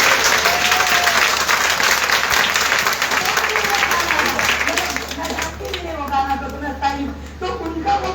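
A church congregation breaks into loud, sustained clapping and applause for about five seconds, then it fades as voices begin talking.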